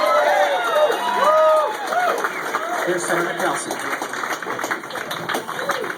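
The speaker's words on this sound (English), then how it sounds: "let's have a round of applause for those guys" A rally crowd applauds and cheers in a hall, steady clapping rising and thinning under someone speaking over a public-address system.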